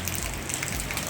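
Heavy rain pouring down steadily, a dense even hiss of drops drumming on a surface, close and constant with no break.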